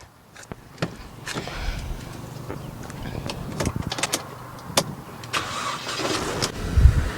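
A Mercedes-Benz C200 Avantgarde W204 engine is started nearby, with a sharp crank and catch followed by a steady idle and scattered clicks and knocks.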